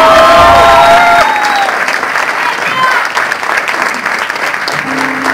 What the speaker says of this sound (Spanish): El señor Iván Petraki, vamos a hacer un aplauso para él.